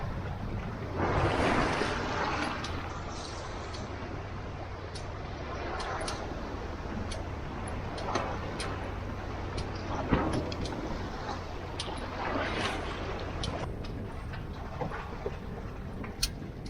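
Aboard a Catalina Capri 26 sailboat on Lake Ontario, wind and water rush steadily past the hull, with occasional splashes and sharp creaks and taps from the rigging over a constant low rumble.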